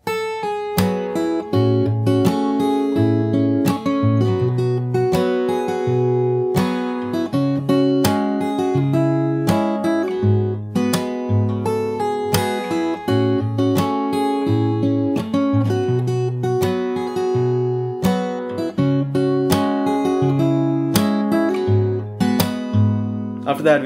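Solo fingerstyle acoustic guitar plays the verse of a song, a steady bass line under plucked chords and melody notes, close and even in level throughout with no voice.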